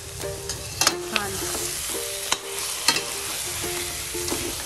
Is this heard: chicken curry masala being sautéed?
yes